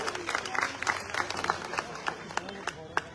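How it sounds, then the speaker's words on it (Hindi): Crowd clapping at a political rally in Nakodar, Jalandhar, with scattered sharp claps and loud crowd noise running under a mix of voices for about three seconds. "बहनों के लिए जोरदार ताली एक बार होना चाहिए।"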